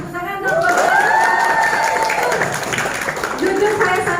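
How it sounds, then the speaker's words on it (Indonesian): Audience at a henna workshop bursts into applause, a moderate wash of clapping with voices and cheering over it, heard up close for a few seconds. "kalian semuanya tepuk tangan dong"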